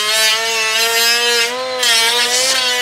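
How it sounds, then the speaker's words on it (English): A handheld power grinder scuffs the outer edge of a fabricated car audio kick panel, a loud, close, continuous high whine with a strong steady pitch that dips slightly as the disc bites into the material. "Look at this grinder someone gave me. I'm scuffing the outer perimeter."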